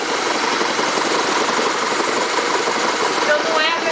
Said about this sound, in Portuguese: tem um barulho aqui que vem tipo um motor batendo.